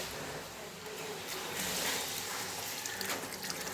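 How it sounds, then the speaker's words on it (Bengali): A packet of hilsa fish is rinsed under a running kitchen tap, and the steady rushing gush of water shifts slightly as the packet is turned, close and continuous with no speech. "খুব সাবধানে আমি ধুয়ে নেব এই প্যাকেটটা"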